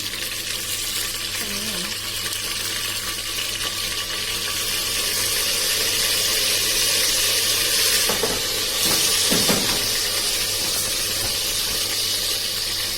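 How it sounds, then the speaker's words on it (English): Leftover oil from shallow-fried chicken pours into a hot pan and sizzles loudly and steadily, with a brief splashing burst near the end. "So I am pouring this remaining oil."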